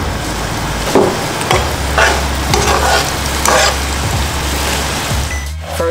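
Tomatoes cook down in a pot with a continuous loud sizzle, broken by several stirring scrapes and knocks at an uneven pace.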